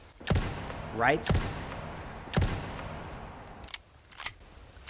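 Gunfire in a Resident Evil game on Android, several sharp shots fired in an uneven series with ringing tails, close and loud, while someone talks over the action.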